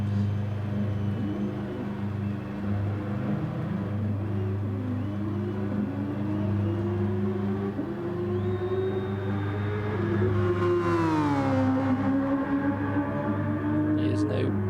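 Racing car engines at Fuji International Speedway in GT Sport, a droning mix of engines held at speed with pitches rising and sliding, one car sweeping past loudly near the end, continuous and without talk.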